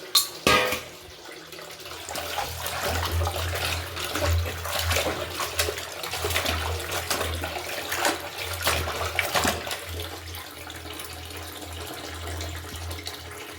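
Basale spinach leaves are swished and rinsed in a vessel of water, making steady sloshing and splashing with a running-water wash, close and continuous with no speech.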